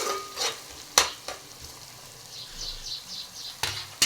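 Ginger garlic paste fries in a pan with cooked tomato pieces, a soft sizzle broken by a few sharp spatula knocks and scrapes, close and fairly quiet.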